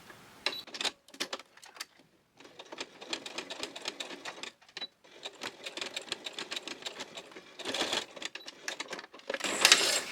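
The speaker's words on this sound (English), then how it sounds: "just do a little straight stitch backwards and forwards a couple of times" A sewing machine runs a short straight stitch backwards and forwards on a small key fob or purse, with quick clattering bursts broken by brief pauses and a few sharper clicks near the end.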